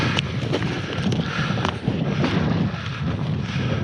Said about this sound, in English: you see the wind's trying to grab it already